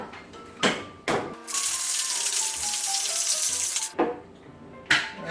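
Margarita with ice is shaken hard in a cocktail shaker, giving a steady, loud rattling swish of ice that runs for a few seconds. Single knocks come before and after the shaking.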